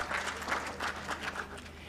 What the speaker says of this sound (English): Claps for that.